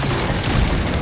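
Gunfire in the Gears of War E-Day multiplayer beta: a dense, continuous burst of rapid shots and booming impacts fills a short moment, loud and close, with no talk.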